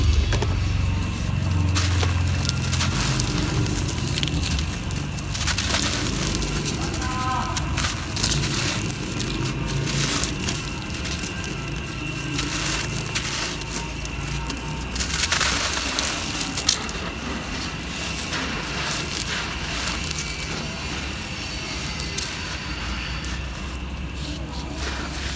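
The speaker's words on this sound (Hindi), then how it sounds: "ये ना एक शेप क्रम्बल करती हूँ नीचे" Dry clay pot pieces and a floor shape crumbling by hand, a continuous close, gritty crunch and powdery crackle that keeps going with no pause.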